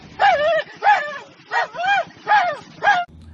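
A man imitates a dog with his voice, giving six loud, evenly spaced barking yelps in quick succession, close and unaccompanied.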